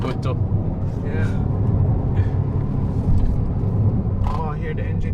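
A purpose-built drift car's engine runs steadily while driving, a low rumble that continues throughout under intermittent talk inside the car.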